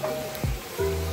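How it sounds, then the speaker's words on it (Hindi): Bitter gourd (karela) slices frying in oil over a high flame, giving a short, soft sizzle close by. "देखिए ऐसे तलेगा, साइज भी इसका काफी बढ़ जाता है"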